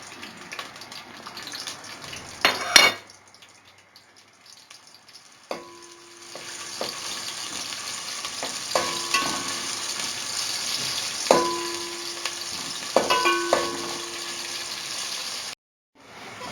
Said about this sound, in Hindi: ये हमने घी डाला, इसके अंदर प्याज डालकर इसे ब्राउन कर कर निकाल लेंगे इसमें।